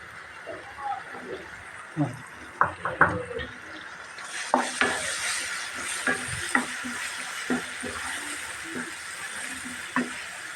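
Spices are stirred into browning onions frying in a pot for a Chittagong-style beef dish with gourd and chana dal. A steady sizzle sits under repeated scraping and clinking of a spoon against the pan.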